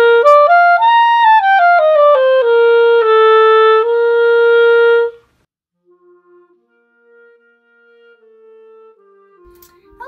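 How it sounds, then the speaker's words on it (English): Clarinet in its clarion register plays a short phrase of clear sustained notes, stepping up and then down for about five seconds, close and solo, followed by near silence with a faint trailing tone. "an example of something that could be played in the clarion range would be something like this"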